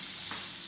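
A beef burger patty frying in a pan, a loud, continuous bright sizzle held evenly through the short moment, with no voices.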